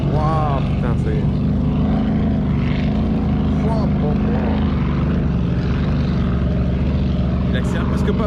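Propeller airplane engine roaring at full throttle, a loud steady drone filling the whole stretch with no letup, while someone talks over it.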